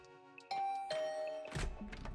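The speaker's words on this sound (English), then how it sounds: "I'll ring the bell, just in case." A two-tone doorbell chime rings out in Hundred Line Last Defense Academy. It is clear and close, followed by a door opening and some rustling.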